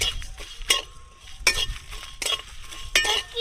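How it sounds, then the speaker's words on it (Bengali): Whole coriander seeds and whole cumin being dry-roasted in a kadai with dried chillies, with a soft sizzle and rhythmic bursts of a spoon scraping and stirring the spices, and no talk. "এবার দিয়ে দেবো গোটা ধনে, গোটা জিরে।"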